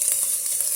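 Vegetables frying in a hot pan for a Puerto Rican pastelón, a steady bright sizzle close up with no talk.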